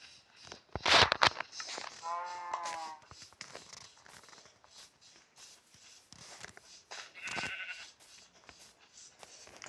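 Minecraft farm animals, sheep and cows, bleat and low amid footsteps in a quiet game world, a few short calls spaced apart at moderate volume.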